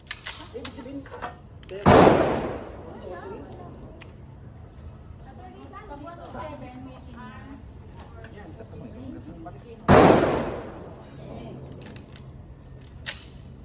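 Two sharp, loud gunshots ring out several seconds apart, with quiet talking between them.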